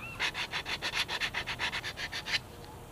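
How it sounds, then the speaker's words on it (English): Hand sanding of jigsaw-cut radiused wooden corners with sandpaper during a wooden boat refit: about a dozen quick, even back-and-forth rubbing strokes in a close rhythmic run that then stops. "Tidy them up with sandpaper."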